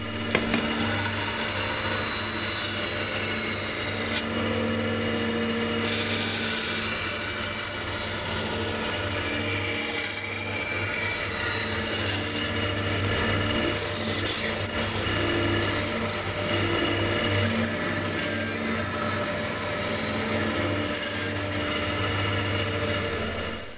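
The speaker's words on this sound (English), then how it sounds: "So I've now cut the socket for the bow with a slight angle on it." A wooden crossbow stock has the bow socket cut into it, a steady close rasping and scraping of wood that carries on without a break, with a low hum underneath.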